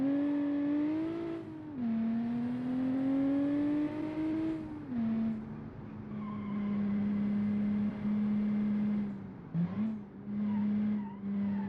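A car revving and accelerating with a steady rising engine tone, loud and close, with brief dips as it shifts or slows near the end; no talking.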